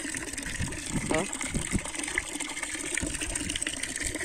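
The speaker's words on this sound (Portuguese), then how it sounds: "Uma caixa d'água, olha." Water gushes steadily into a water tank on a farm, a constant close splashing rush that runs throughout while a person speaks briefly over it.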